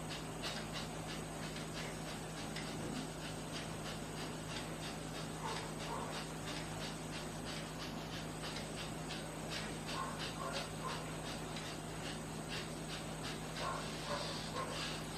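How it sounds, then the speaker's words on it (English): Kapalbhati yoga breathing: a steady run of short, forceful nasal exhalations in quick regular rhythm, fairly faint and close, over a low background hum. "Kapalbhati means only exhalation."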